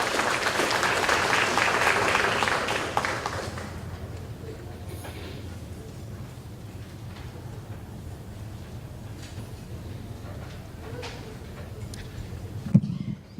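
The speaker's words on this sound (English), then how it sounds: "please give these students a round of applause for their service" Audience at a high school academic awards ceremony clapping for students, a dense burst of applause that fades after about four seconds into quiet room murmur and faint shuffling.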